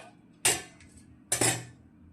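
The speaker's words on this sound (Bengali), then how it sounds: "ভাত বাড়া শুরু করে দিয়েছি।" Two sharp utensil clinks against a plate, about a second apart, while rice is served out, close and clear over a quiet background.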